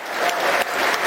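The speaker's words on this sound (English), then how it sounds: "rising as one to applaud a Lions pioneer and a Lions hero" A Millwall football stadium crowd rises to applaud a club hero before a match against Stoke City, a dense, sustained roar of clapping filling the ground without pause.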